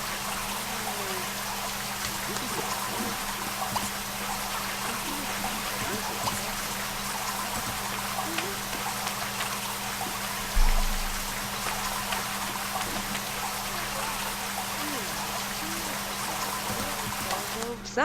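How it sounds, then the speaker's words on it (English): A running shower in The Sims 2 gives a steady, even hiss of spraying water with a faint low hum underneath, continuing unbroken. "take a shower"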